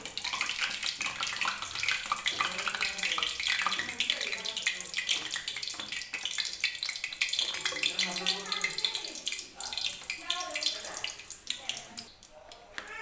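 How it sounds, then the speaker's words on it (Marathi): Urad dal papad fry in hot oil with a steady, dense sizzling hiss that lasts throughout, while a person talks over it. "मी उडदाचे पापड तळून घेते या तेलामध्ये"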